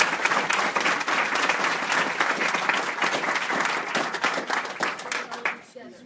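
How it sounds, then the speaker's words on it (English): A round of applause at a school board meeting fills the room with dense, steady clapping from a crowd close by that thins and fades out at the end. "let's give them a round of applause"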